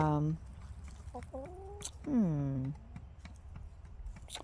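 Australorp chickens clucking close by, several rising and falling clucks and drawn-out calls at moderate volume over a low background hum.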